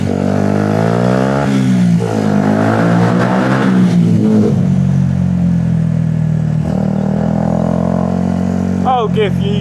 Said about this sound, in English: I'll give you a cheeky little rev